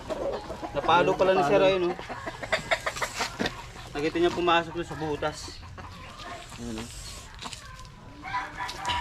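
Chickens clucking near a spot where black cobras are being hunted in Isabela, their calls mixed under steady overlapping talk from several people.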